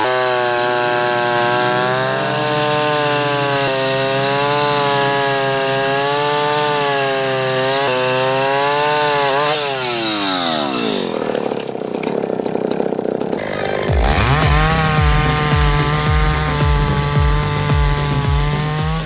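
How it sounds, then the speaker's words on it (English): A chainsaw runs loudly and close, its engine revving and bogging as it bites into wood, then shifting pitch as the cut continues. "This is the chainsaw."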